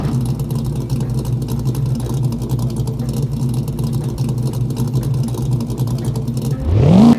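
In the CarX Drift Racing Online game, a raised car's engine drones steadily, then revs up sharply in a rising whine at the end.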